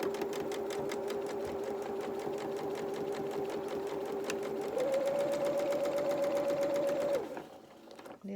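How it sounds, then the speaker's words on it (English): A sewing machine stitches a shorts seam from the hem edge, a rapid steady mechanical chatter that rises slightly in pitch and speed near the end before stopping abruptly. "I'm going to sew from the hem edge this time"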